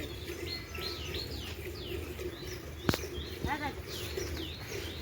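Several birds call and chirp at a moderate distance over a steady outdoor hum in a village, with a brief sharp knock partway through.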